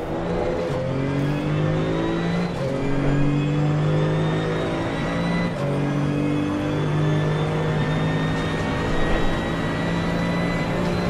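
Porsche GT2 race car in Assetto Corsa Competizione at the Red Bull Ring, its engine droning steadily and loud as it shifts through rising and falling pitch sweeps across gear changes, with no talking.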